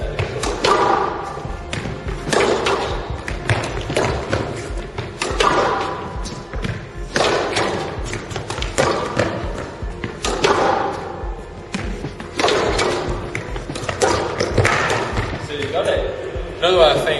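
Squash ball striking the front wall during drop-shot play, a steady series of dull thuds and taps at irregular intervals, with someone talking over the rally throughout.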